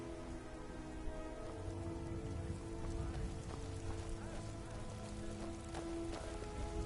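Steady rain falling in Skyrim, a constant hiss of raindrops on surfaces that lasts throughout at low volume, with faint tonal background music and no speech.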